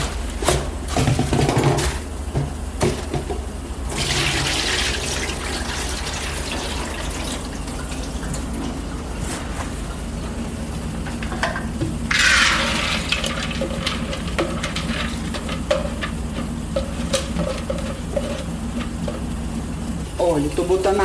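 Water pours off soaked dried corn for mungunzá, a steady splashing rush with a louder burst midway, while a voice talks in the background.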